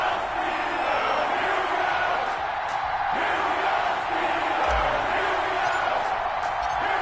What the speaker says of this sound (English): This crowd is ready as their guys get set to match up between the New York Jets